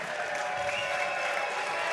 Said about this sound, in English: round of applause to our opponent, to his opponent, Rene Alvarado.